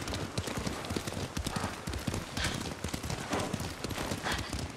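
Horse hooves clip-clopping at a steady riding pace in the Ghost of Tsushima video game, a dense continuous patter of hoofbeats with no talk over it.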